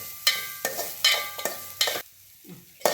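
Dry-roasting ingredients lightly in a pan for kozhukattai, with several distinct stirring scrapes spaced through the clip and a soft sizzle beneath, up close with no talk.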